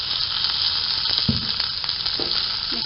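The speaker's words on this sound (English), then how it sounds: "Now I'll add the onion, green chilies and coriander." Onion, green chilies and coriander sizzle steadily in hot oil in a pan, following mustard seeds and curry leaves, with a few soft stirring knocks.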